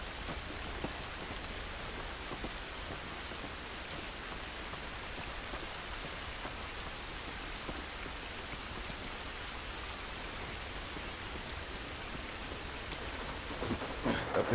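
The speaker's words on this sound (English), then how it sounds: "This rain ain't gonna do us any good." Steady heavy rainfall in The Last of Us Remastered plays throughout with no break, a dense even wash of drops hitting surfaces in an outdoor game scene.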